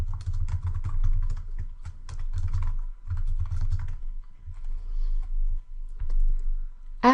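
Steady, fast typing on a computer keyboard, with dense clusters of close key clicks broken by short pauses. A low background hum runs underneath and no one speaks.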